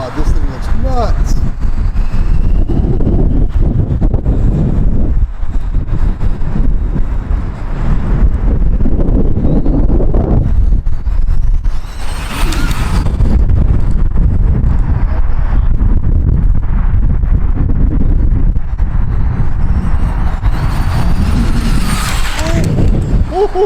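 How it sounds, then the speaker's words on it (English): Strong outdoor wind roars and buffets loudly and almost constantly across the microphone, with brief gusting swells and a person speaking intermittently underneath. "It is windy as heck right now."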